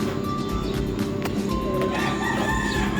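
A rooster crows nearby amid background clucking and a low murmur of voices.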